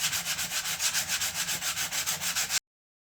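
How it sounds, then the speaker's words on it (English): Sandpaper rubbed back and forth on wood of an antique BB gun, about a dozen quick, even rasping strokes in a steady rhythm, close and alone, ending abruptly. "me using sandpaper on wood"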